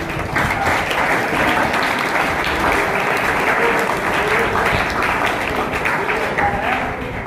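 Loud, sustained applause from a large crowd at a Guru Purnima religious discourse, steady dense clapping that fills the whole stretch without pause.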